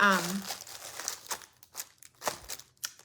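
A candy cane's plastic wrapper crinkles and crackles up close in repeated bursts, with a voice speaking briefly at the start.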